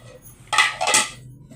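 Ceramic serving bowls and metal cooking pots and utensils clatter and clink together as they are stacked into a box, a short burst of close, bright rattling knocks over a quiet room.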